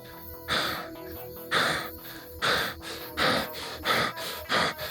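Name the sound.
performer imitating heavy panicked breathing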